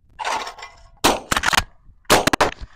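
A Mossberg 500 pump shotgun fired at clay targets outdoors: three loud, sharp blasts about a second apart, each followed by a quick clatter and ringing tail, with no talking.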